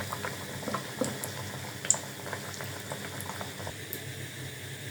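Chicken bread pakoras deep-fry in hot oil, a soft continuous bubbling with faint crackles and a few small pops, no talk.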